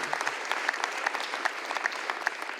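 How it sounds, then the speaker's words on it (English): Applause for the insurers at a risk-management forum session, moderate steady clapping from a room audience with a few sharper claps standing out. "I shall get in trouble if I don't ask the insurers to get a big round of applause too."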